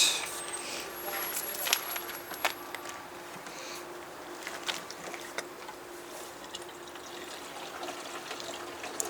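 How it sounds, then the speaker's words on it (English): Antifreeze poured into the fresh water tank of a 2018 Roadtrek Zion RV, a steady soft trickle and splash running throughout with faint clicks and handling noise. "You're supposed to add somewhere between 2 to 3 gallons of antifreeze into the fresh tank."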